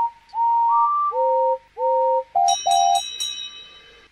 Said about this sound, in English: The engines whistled and cheered.